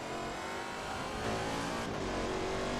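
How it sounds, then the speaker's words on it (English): Team Panos Esperante racing car in Forza Motorsport 2, its deep, throaty engine droning loud and steady, rising slightly in pitch as it revs. "Got a really deep, throaty growl to the engine."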